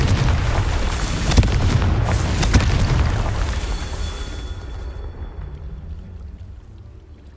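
A loud Confringo fire-spell blast from Hogwarts Legacy booms and roars up close, with crackling bursts for a few seconds before the rumble fades into a quieter tail.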